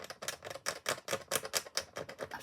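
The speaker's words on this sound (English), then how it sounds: "I've just got a little scalpel and I'm just gently scraping in" A small scalpel scrapes across black watercolour paper, scuffing the surface in a quick series of short, rhythmic, close-up strokes with no voice present.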